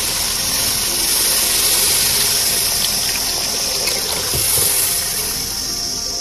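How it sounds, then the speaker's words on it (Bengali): Water poured into a pan of sautéed potato curry makes a steady, close rushing hiss that holds unbroken for several seconds. "আবার জল দিয়ে দেবো"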